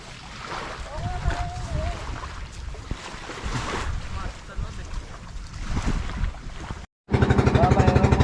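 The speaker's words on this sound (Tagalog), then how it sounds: "ang aming bangka. Babalik na kami." A boat moves across open water off Romulo Island, Pangasinan, with wind buffeting the microphone and waves slapping, then a steady engine drone takes over near the end.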